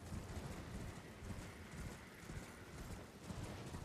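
Horse hooves gallop steadily in Elden Ring, a dense, continuous clip-clop rhythm at moderate, even loudness throughout with no talk.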